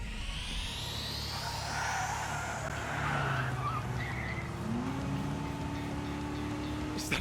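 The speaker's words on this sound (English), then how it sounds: "Is that a turbocharger?" Turbocharged engine from the game Trails through Daybreak, revving loudly and steadily under a skidding, tire-squealing rush, with a rising whine toward the end.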